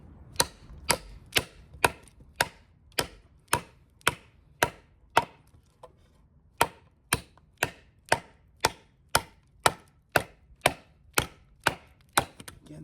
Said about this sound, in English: for this smaller knife, this thing's chopping pretty damn good.